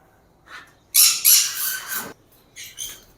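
Aqua lovebirds in a show-class breeding setup, including a blue pied chick, give several sharp, high chirps and squawks up close, a loud burst followed by shorter calls against a quiet background.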